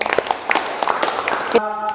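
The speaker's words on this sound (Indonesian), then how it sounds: "Tepuk tangan dulu untuk Nasrul" Brief classroom applause for a student: scattered claps from a small group, short and fairly close, mixed with voices before cutting off abruptly.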